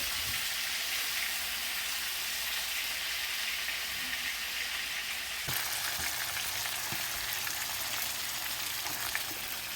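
Minced garlic sizzles steadily in a hot pan for honey-glazed chicken, a continuous close frying hiss with a few soft stirring clicks partway through.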